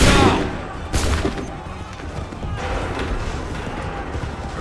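Musket volleys ring out in an Assassin's Creed 3 battle: a loud crackling burst at the start and a second sharp volley about a second later, then a dense rumbling din with no clear speech.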